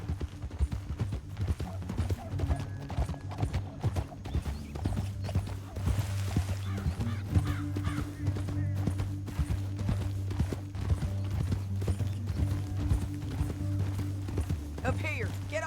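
Horse hooves clip-clop at a steady trotting rhythm in the Western video game Red Dead Redemption 2, fairly close, layered over a low droning music bed and ambient game sound.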